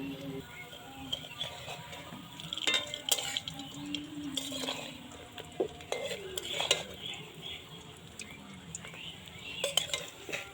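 Khasta goja, a Bengali sweet, frying in oil and being turned with a utensil: quiet sizzling under intermittent scraping and metallic clinks against the pan, with soft sporadic knocks.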